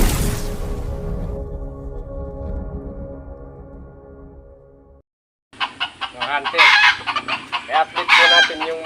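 Native jungle fowl (labuyo) crow loudly nearby, with a long drawn-out crow fading at first, followed after a brief gap by busy, overlapping clucks and cackles.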